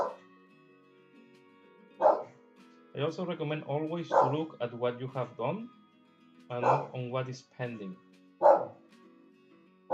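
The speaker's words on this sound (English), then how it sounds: "Sorry for my dog." A dog named Loki barks in short bursts in and around a home, reacting to a noise in the garden, the barks spread between stretches of someone talking close by.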